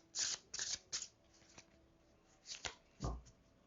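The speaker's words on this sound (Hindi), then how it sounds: "एक्चुअली कार्ड्स बड़े होते हैं इसलिए मैं शफलिंग इस तरीके से मुझे करना होता है" Large cards shuffled by hand in a few quick riffling bursts, each a short papery flutter, with pauses between and a final thump as the deck settles, close and moderately loud.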